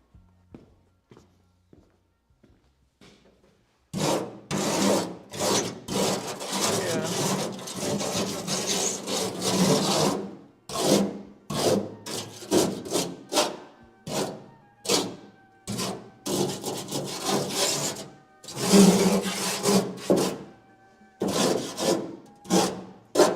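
A manual wire brush scrubs rust off a car in a long run of rough, rhythmic rasping strokes, close and fairly loud, after a few seconds of faint knocks.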